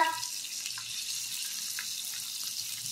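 Tap water running steadily into a sink to soak dried salted fish (tuyo), a continuous bright hiss with faint splashing, alone with no talk.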